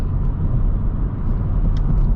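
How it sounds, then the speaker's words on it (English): Engine rumble from a manual Honda Civic Sport 2.0 driving at around 47 mph while downshifting from fourth to third, a steady low drone with a brief shift near the end. "Downshifting at about 47 miles an hour from 4th to 3rd."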